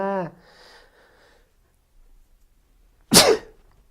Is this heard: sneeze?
yes